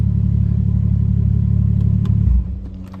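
A BMW F10 car engine idles with a steady low rumble close by, then drops to a quieter, uneven hum near the end after a lithium battery upgrade.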